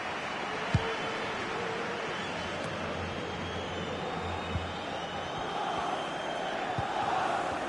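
Stadium crowd in the FIFA 23 video game during a Real Madrid versus Manchester City match: a steady, loud roar of fans with a swelling rise near the end and a couple of brief thumps.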